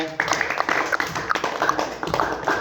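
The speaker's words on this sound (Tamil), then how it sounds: "பூர்விகா ஒரு கைத்தட்டி கொடுத்துருங்க" Children clap their hands for a classmate in a classroom, a short burst of rapid, uneven claps close by, with voices mixed in.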